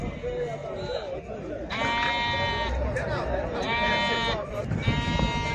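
Local goats, nanny with kid, bleat at the Maştağa sheep and goat market, two long loud wavering cries near the middle among fainter calls, amid steady crowd talk.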